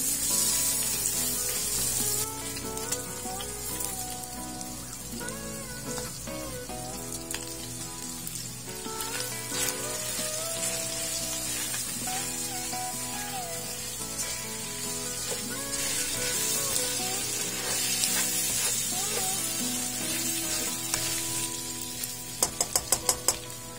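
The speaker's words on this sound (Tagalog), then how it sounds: "At dito na natin igigisa yung ating sibuyas at ng bawang." Onion and garlic sautéing in rendered pork fat give a steady, close sizzle with occasional stirring, running under background music throughout with a few sharper clicks near the end.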